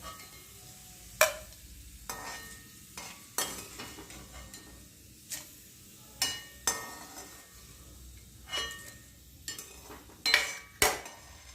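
Mango pickle pieces being scooped out of hot frying oil, with a soft steady sizzle beneath a series of sharp metallic scrapes and clinks of a ladle against the pan, about a dozen spaced over the stretch.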